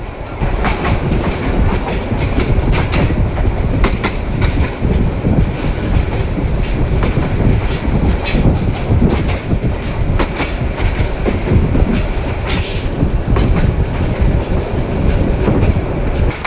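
The Mohanganj Express, also called Bhati Banglar Zamindar Express, runs late through a station near Sreepur, heard from on board as a loud, continuous roar of wheels and carriages with steady rhythmic rattling throughout.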